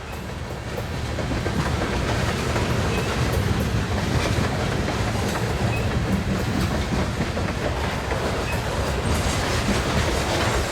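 A Union Pacific freight train with old C&W hopper cars rolls steadily past on the Spine Line, a loud continuous rumble with clickety-clack of wheels on rail throughout, no talking.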